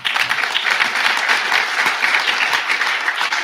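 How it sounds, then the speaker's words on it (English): Conference audience breaking into applause, a dense, even roar of clapping from a large crowd, sustained and fairly loud with no voices on top. "he'll know that the applause is for him"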